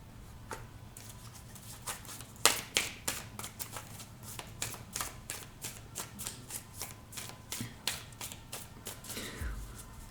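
Tarot cards shuffled by hand, a steady run of crisp riffling and tapping bursts over about ten seconds, close and fairly quiet, with no talking.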